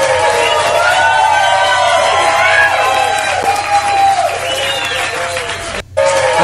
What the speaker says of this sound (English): There's just clapping and stuff.